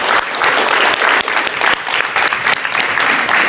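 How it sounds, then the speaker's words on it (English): Audience applause fills a hall after a workplace diversity talk: a loud, dense, steady wash of many hands clapping throughout, close and continuous with no speech over it. "Another big round of applause."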